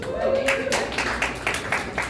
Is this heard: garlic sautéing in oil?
no